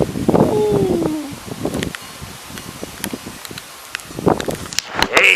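Strong gusty wind blows through trees, giving uneven bursts of rustling leaves and rushing air that rise and fall, loud and close, with a voice briefly heard.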